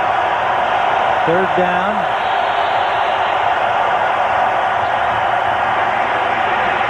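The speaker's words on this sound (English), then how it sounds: "And the crowd gets loud." A stadium crowd at a 1998 NFL game between the Jaguars and Buccaneers roars steadily, a dense, loud wash of cheering that fills the whole stretch, while an announcer briefly speaks over it.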